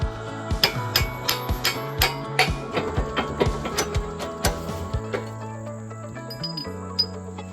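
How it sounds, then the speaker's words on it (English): Metal parts clank and knock in irregular strikes while a grader blade is unhooked from a tractor, with sharp ringing hits and occasional squeals, close and clear over a quiet background. "we've got to unhook this grater blade so we can hook up the logging winch"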